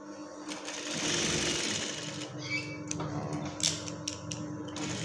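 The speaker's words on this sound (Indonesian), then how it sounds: "Kita jahit bantu aja. Kita jahit jarang." A sewing machine runs steadily, stitching the lining of a shirt collar with long basting stitches, its motor whirring close by with small mechanical clicks and a brief slowdown near the end.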